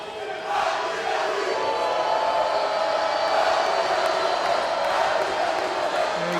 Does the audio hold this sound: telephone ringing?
no